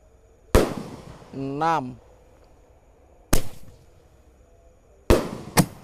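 Roman candle fireworks fired during a Takbiran night celebration in 2024, with four sharp, loud shots spaced irregularly across the span. Between the first and second shots a voice calls out a count.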